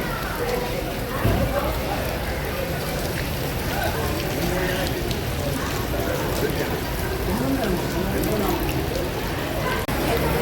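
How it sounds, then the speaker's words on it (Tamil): Heavy rain pouring onto and around a bus during flooding in Jaffna: a dense, steady wash of rain and running water, loud and close throughout, with a voice talking over it. "மழையை இந்த பஸ்ஸில் சைட்டில் இருந்து கொட்டு தண்ணியாக"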